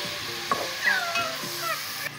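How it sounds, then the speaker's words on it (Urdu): Meat tossed with browned onions in a pot for a chukandar gosht curry, giving a steady sizzle with soft stirring scrapes and a few small clinks, close and moderately quiet, with no talk. "اب اس میں ڈالیں گے گوشت، پیاز براؤن ہو رہی ہے، اس کو فرائی کریں گے"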